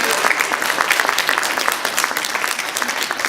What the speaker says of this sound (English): Another big round of applause, please.